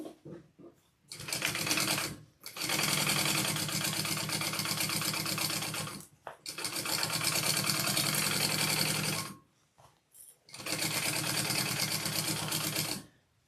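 Sewing machine basting two fabric layers along their edges, running in three long steady bursts of rapid mechanical stitching separated by short pauses, close and clear.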